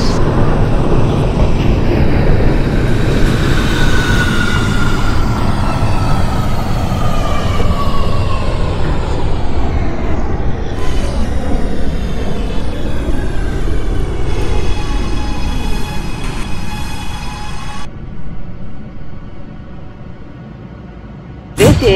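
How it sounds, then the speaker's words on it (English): A Brooklyn-bound C local subway train, an R211T in the OpenBVE simulator game, runs loud and steady with a rising then falling motor whine and a rolling rumble, easing off near the end. "This is a Brooklyn-bound C local train."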